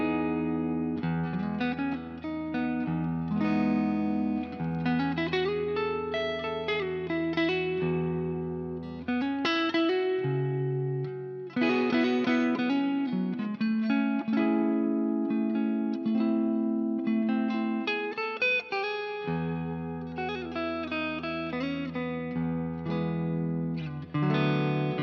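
A G&L ASAT electric guitar on its neck pickup with tone fully up plays melodic lines and chords, clean sustained notes ringing out alone with slight effects coloring.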